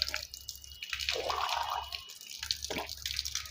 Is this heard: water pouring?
yes